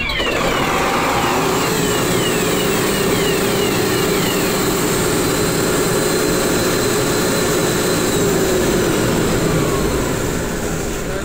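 A ship's emergency generator engine, started with its battery starter, runs as a loud, constant diesel roar that fills the space from start to finish, with a faint whine sweeping across it near the start.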